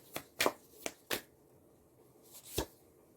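Tarot cards are shuffled and riffled by hand in several quick, crisp bursts, close and clear, with short pauses between them and no talking.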